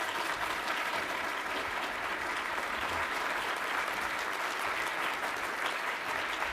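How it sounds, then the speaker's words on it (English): Applause from a conference audience welcoming a speaker on stage, a dense, continuous roar of many hands clapping at an even, full level throughout, with no voices heard over it. "Please, for a round of applause for Peter."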